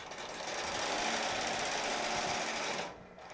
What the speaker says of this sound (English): all I simply have to do is hit start and we'll sew the dot